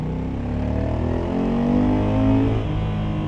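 A 2025 Honda NT1100 DCT motorcycle engine revs out in sport mode, a loud, steady, close drone that rises in pitch as it pulls through the gears.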